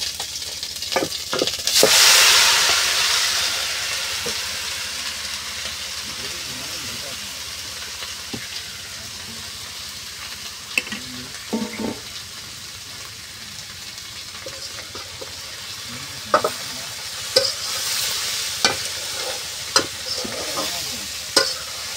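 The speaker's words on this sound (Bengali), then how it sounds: "এখন এই যে আমি কুমড়াটা আগে থেকে কাটটা ধুয়ে রাখছি, এখন আমি এইখানে ছেড়ে দেব।" Cut pumpkin pieces frying and sizzling in a home kitchen pan, with a steady hiss, a loud burst as they go in near the start, and intermittent stirring scrapes and clicks throughout; faint voices occur briefly.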